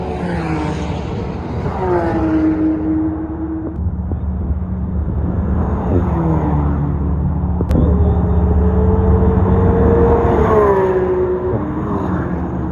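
Sports and supercars such as a Ferrari F40 and Lamborghini SVJ lapping the Le Mans circuit during a Paris rally, engines rising and falling in pitch as several cars pass in succession, loud and close with a deep rumbling bed.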